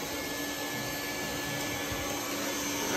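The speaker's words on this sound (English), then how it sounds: "Great vacuum. I upgraded the hose." A shop vacuum with an upgraded hose cleans a furnace floor on a no-heat service call, giving a loud, steady, close whine and rush that runs unbroken throughout.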